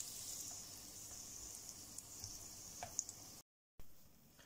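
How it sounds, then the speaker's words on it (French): Cauliflower florets in tempura batter fry in oil heated to 180 degrees, giving a steady, quiet hiss with faint crackles and ticks throughout, broken by a brief silent gap near the end. "on vient les mettre dans une huile chaude à 180 degrés"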